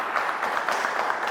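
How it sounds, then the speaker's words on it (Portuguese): Steady, dense applause from an audience at a Pentecost novena church service, a continuous wash of clapping that holds at an even loudness throughout. "Vamos aplaudir essa palavra mais uma vez, gente."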